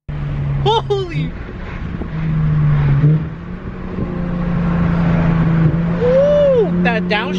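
A Lexus IS 350 F Sport with a new aftermarket exhaust revs and downshifts, with engine pitch rising and dropping through gear changes, heard from inside the cabin. Excited voices react over the engine and exhaust throughout.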